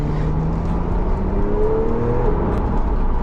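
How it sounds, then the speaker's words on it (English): A Porsche 911 Targa 4 GTS with a 450-horsepower rear engine drones steadily, its pitch climbing slowly as the engine revs, loud and continuous with no talk over it. "listen to 450 brake horsepower firing out the back of your GTS."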